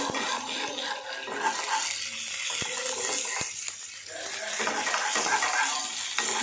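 Okra frying in a pan, a continuous hissing sizzle with occasional sharp clicks of stirring, close and fairly loud, with no talk.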